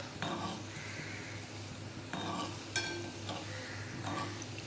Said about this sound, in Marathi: असे मस्त तळून घ्यायचे.